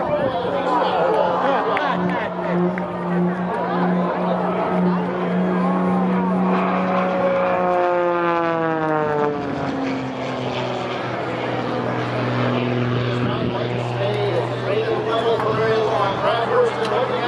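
An MX2 aerobatic airplane flown by Brad Wursten at the Boundary Bay Airshow, its engine droning steadily with pitch sweeps as it maneuvers, under continuous commentary from an announcer.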